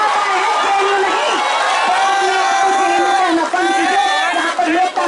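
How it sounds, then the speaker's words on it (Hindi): A large crowd at a university student union election rally cheers, whoops and claps loudly and continuously, with many overlapping voices shouting close and steady for several seconds. "यहाँ पर लोकतांत्रिक आवाज है जो बहुत ताली बजा रही है मेरे लिए।"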